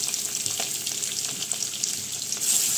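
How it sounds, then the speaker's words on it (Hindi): Potatoes and eggs frying together in a pan give a dense, even crackling sizzle with faint stirring, continuous throughout and rising slightly at the end. "इसके बाद साइड साइड में आलू भी डाल देती हूँ, एक तरह आलू और एग फ्राई हो जाएगा।"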